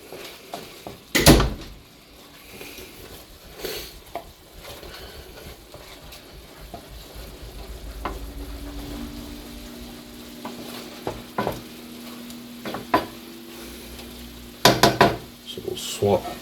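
Shrimp sizzle and fry in a pan for shrimp scampi, a soft steady hiss punctuated by clacks and scrapes of stirring, with a few louder knocks of utensils against the pan.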